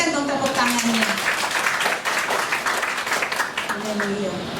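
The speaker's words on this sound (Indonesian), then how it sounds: "Berikan dong tepuk tangannya." A church congregation at a Sunday worship service applauds, producing a dense, steady wash of many hands clapping together, loud and sustained, with voices and some sung or called-out tones rising over it.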